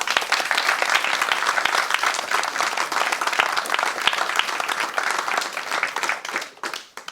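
Enthusiastic audience applause for debate teams at a judging announcement, dense sustained clapping filling the room for several seconds before thinning into scattered claps and fading out.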